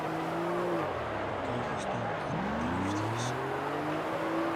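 A drift car's engine in the CarX Street video game, revving steadily with rising and falling tones as it shifts, close and continuous, with people talking over it.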